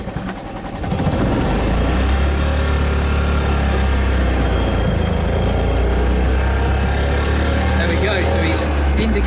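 A BMW Isetta bubble car's small engine builds to a loud, steady droning rumble as it pulls away and holds speed from inside the cabin, with voices mixed in.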